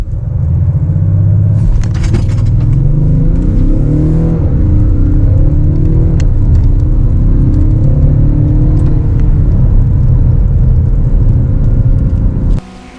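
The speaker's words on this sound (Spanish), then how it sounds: "Vais a ver que la salida desde parado es muy buena porque la tracción de este coche es buenísima" An Audi S6 Avant with all-wheel drive accelerating hard from standstill, a loud sustained engine roar rising through the gears with low rumble, close and continuous for over twelve seconds before cutting off.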